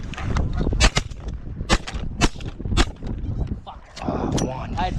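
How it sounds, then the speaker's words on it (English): Several sharp shotgun blasts fired up into the air outdoors, spread over a few seconds as loud separate cracks, with people talking between and around the shots. "Make sure you shoot up in the air."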